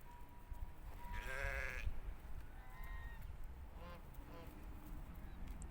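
A single quavering sheep bleat rises near the start, followed by fainter bleats farther off over a steady, noisy outdoor background.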